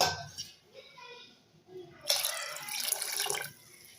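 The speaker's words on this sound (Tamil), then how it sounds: "அதுக்கு தேவையான அளவுக்கு தண்ணி சேர்த்திக்கலாங்க." Water is poured into a pressure cooker holding washed rice for sambar rice, a close, splashy pour lasting over a second after a few quiet kitchen clinks.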